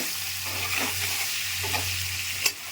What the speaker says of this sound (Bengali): এরপর আমি কেটে রাখা পনিরগুলোকে এর মধ্যে দিয়ে দিচ্ছি। একদম হালকা করে ভাজবো এটা।